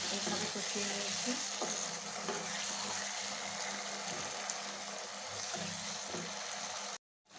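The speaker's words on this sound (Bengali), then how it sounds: "ঢেকে দিয়ে ভালোভাবে কষিয়ে নিব।" Chicken curry with potato and bean seeds sautés in a pan, a steady, fairly loud sizzle with some stirring texture that runs nearly the whole time before cutting off abruptly near the end.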